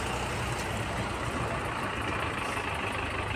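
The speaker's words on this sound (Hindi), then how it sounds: "बहुत ज़्यादा ट्रैक्टर आ चुके हैं" Several tractors idling together at Ganj Basoda grain market, a steady broadband engine rumble with low throbbing, continuous and moderately distant, no talk.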